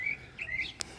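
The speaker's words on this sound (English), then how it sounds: "Hear that bird? Man, I love it." A bird chirps outdoors during storm-damage repairs, giving a few thin, high chirps in quick succession over a faint steady background, fairly distant and without talk.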